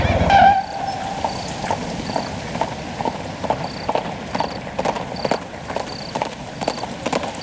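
Horse hooves clip-clop in a steady, even rhythm at moderate distance, sounding on their own after a brief tone at the start.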